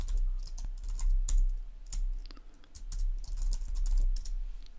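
Keys clatter on a computer keyboard as a command is typed in bursts of quick, close clicks with short pauses between groups, over a low steady hum and with no voices.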